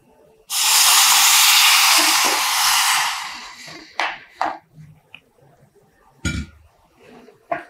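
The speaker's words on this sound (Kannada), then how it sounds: "ಮೊದಲು ಒಂದು ಸ್ವಲ್ಪ ಬೆಲ್ಲ ಹಾಕಿ ಪಾಕ ಮಾಡಿಕೊಳ್ಳೋಣ." Jaggery dropped into a hot pan to melt into syrup gives a sudden loud hiss that lasts a few seconds and then fades, followed by scattered clinks and light scrapes of a utensil against the pan.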